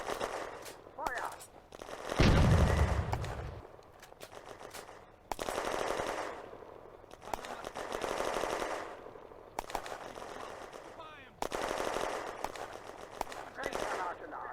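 Tank cannon and machine-gun fire in a WWII Eastern Front battle in the strategy game Firefight, repeated bursts and heavy booms at mid distance, with shouted commands in German over the gunfire.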